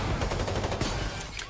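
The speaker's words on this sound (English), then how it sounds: "Hit the grenade launcher." Dense gunfire during a Payday 3 heist fills the scene as a loud, continuous clatter of rapid shots and impacts, with a grenade launcher among the weapons and no voices in the mix.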